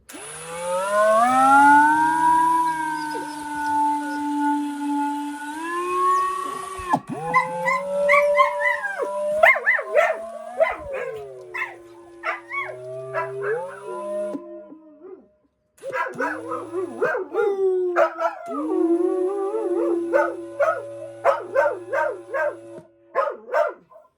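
A dog howls loudly and at length, long rising and falling wails broken by yips and short barks, close by.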